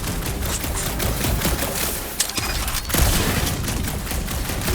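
Heavy gunfire in Guardians of the Galaxy, a dense continuous fusillade of rapid shots filling the whole stretch, loud and close with a few sharper cracks.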